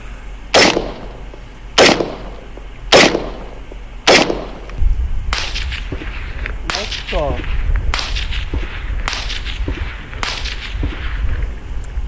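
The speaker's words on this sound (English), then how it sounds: "This round, as you can tell, was supersonic, and we heard the report after the crack" Supersonic 5.56 rifle rounds fired unsuppressed toward a position in defilade, each arriving as a sharp, loud crack followed moments later by a duller, distant gunshot report; several shots spaced a second or two apart, with faint voices in between.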